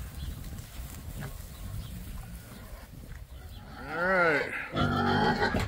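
Pigs on a farm jostle and grunt over their food, then break into loud squeals near the end while someone speaks briefly and wind rumbles in the background.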